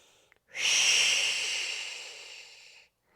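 A single long, forceful breath during a core and glute exercise, a breathy hiss that starts abruptly, holds strong for about two seconds and then fades out, heard alone and close.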